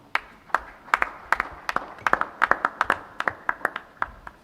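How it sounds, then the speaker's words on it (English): Scattered clapping after a speech at an investment conference and trade fair on indigenous knowledge, uneven and sparse, with a few people clapping at an irregular rhythm. "Let's give him a round of applause, please."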